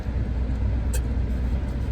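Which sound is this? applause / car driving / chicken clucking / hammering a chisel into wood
car driving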